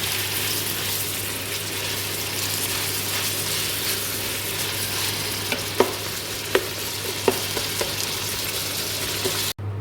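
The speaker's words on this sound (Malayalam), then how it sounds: "നല്ലൊന്ന് വഴറ്റി എടുക്കാം സവാള" Onions sautéing with salt in a pan for a ration-rice biryani, a steady low sizzle close by with a few sharp spatula scrapes and clicks near the end, no talk.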